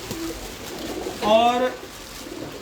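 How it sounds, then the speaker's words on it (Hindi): A pure rooftop pigeon in Pakistan gives a single short, close coo while people talk nearby. "कबूतर तो ये है।"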